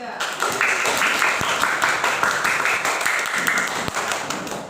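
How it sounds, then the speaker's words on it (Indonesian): Classroom applause from fifth-grade primary school pupils clapping for a group, a dense, steady patter of many small hands close by, with a voice heard faintly amid it. "Beri tepuk tangan untuk kelompok 3."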